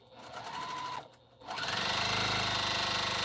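A Bernina sewing machine stitching through a quilt: a short whirring run, a pause of near silence, then a louder steady mechanical hum of rapid stitching that continues to the end.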